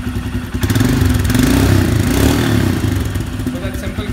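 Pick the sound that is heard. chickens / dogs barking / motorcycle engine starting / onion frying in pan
motorcycle engine starting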